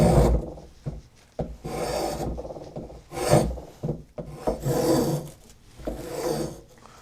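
Wooden guitar neck being rough shaped with a rasp: close, coarse scraping strokes in uneven bursts, each a gritty rasp with short pauses between, no talking.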